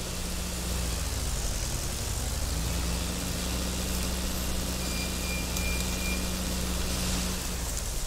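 Tractor engine in Farming Simulator 22, a 4x4 carrying a heavy loader, runs at a steady low idle hum with a constant mid-range drone throughout, with no speech.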